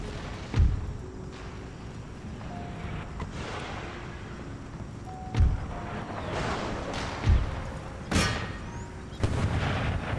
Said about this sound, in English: more terrible shots from our cannon